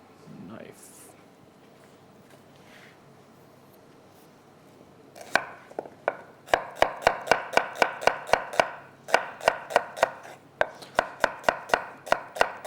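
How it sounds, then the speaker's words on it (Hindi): A knife slices an onion on a cutting board, producing a rapid series of sharp, evenly spaced chops that start after a quiet pause with some early talk and continue steadily to the end. "एक अदद प्याज को करेंगे स्लाइस"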